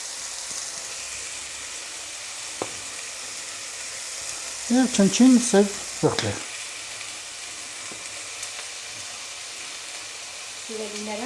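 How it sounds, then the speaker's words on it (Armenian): Meat pieces fry in a pan with a little salt, a soft, steady sizzle throughout, while someone speaks briefly in the middle and again at the end. "այստեղ բոլոր մսակտորները այս ձևով տապակում են"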